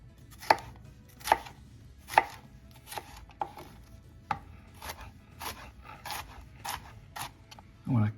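A knife chops red pepper on a cutting board while a two-egg frittata is being prepared, making a series of about a dozen sharp, close knocks at an uneven pace, with a soft scrape near the end.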